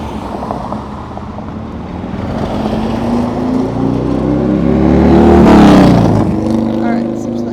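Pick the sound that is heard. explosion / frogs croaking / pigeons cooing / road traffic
road traffic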